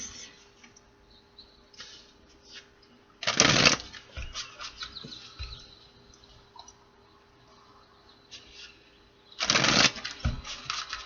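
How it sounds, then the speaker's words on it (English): A deck of tarot cards is shuffled by hand, two short bursts of riffling a few seconds apart, close and crisp against a quiet room with faint background hum. "I'm going to shuffle it 4 times and cut the deck."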